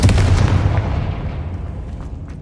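A Confringo spell explosion in the video game Hogwarts Legacy, a loud, deep booming blast at the start that rumbles and fades away over a couple of seconds.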